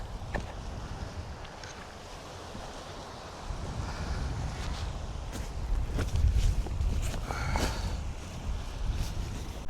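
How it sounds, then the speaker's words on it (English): Gusty wind buffets a Scottish west-coast beach, roaring steadily across the microphone with surf and waves washing beneath and the wind swelling louder in the second half. "It just seems to be getting windier and windier"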